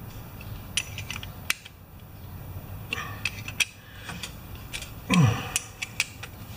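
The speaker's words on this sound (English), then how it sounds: "Half inch wrench." A half-inch wrench turning a bolt on a 3.5 HP Tecumseh lawn mower engine, giving scattered close metallic clicks and a brief creaking scrape, with no talking.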